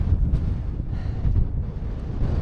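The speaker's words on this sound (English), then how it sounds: "The wind's picked up" Strong wind buffets the microphone on an open fell near Scandale Tarn in the Lake District, a loud continuous low rumble with gusty surges and no voices.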